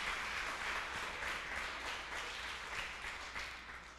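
Congregation applauding during a church sermon, a steady wash of many hands clapping at moderate distance, fairly even throughout and tapering slightly toward the end.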